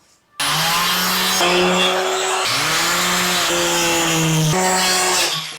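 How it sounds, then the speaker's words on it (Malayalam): A power saw bites into plywood being cut to size for an incubator top, a loud close whining buzz that starts abruptly and keeps running for about five seconds with slight pitch dips under load, then stops. "നമ്മൾ ഈ ഒരു മാർക്ക് ചെയ്ത ഭാഗം നമുക്കിത് പതിയെ കട്ട് ചെയ്തെടുക്കാം കേട്ടോ"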